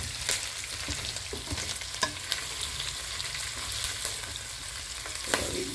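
Pork fries in a pan with a steady, close sizzle while it is turned and stirred, giving scattered scraping knocks and sharper clacks over the constant hiss, with no talking.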